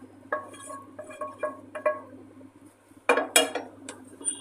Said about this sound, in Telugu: ఇప్పుడు రెడీ అయిన టమాటో ప్యూరీని ఈ రైస్లోకి వేసుకొని కలుపుకోవాలి